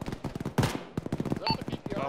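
Rapid machine gun fire from a BTR armored vehicle in a military video game, a rhythmic rattle of sharp bursts broken by brief pauses, close and fairly loud.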